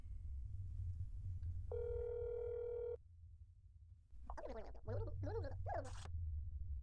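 A telephone rings once as a steady electronic tone in That's Not My Neighbour, followed by a few short squelchy game sounds. The ring is fairly quiet, and no one speaks.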